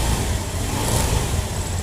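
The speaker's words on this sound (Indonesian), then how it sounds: "Coba tak gas dulu." A Honda Beat scooter engine revving after CVT repair, a loud, steady, smooth engine drone held close up for a couple of seconds.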